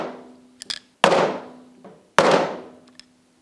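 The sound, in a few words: soft blow hammer tapping screwdriver to shock carburetor screw threads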